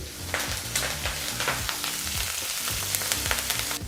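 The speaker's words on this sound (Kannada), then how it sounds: "ಸ್ವಲ್ಪನೇ ಸ್ವಲ್ಪ ಕರಿಬೇವಿನ ಸೊಪ್ಪನ್ನು ಸಹ ಹಾಕಿ ಒಂದು ಮೂವತ್ತು ಸೆಕೆಂಡ್ಗಳ ಕಾಲ ಫ್ರೈ ಮಾಡಬೇಕಾಗತ್ತೆ ಎಣ್ಣೆಯಲ್ಲಿ" Green chillies and curry leaves frying in oil for girmit, a close, steady sizzle with sharp crackling pops and stirring scrapes running throughout.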